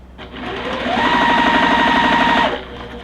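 Sewing machine running a seam along either side of a drawn line on a quilt block, one continuous burst of fast, steady stitching that speeds up and then stops, close and loud with no talking.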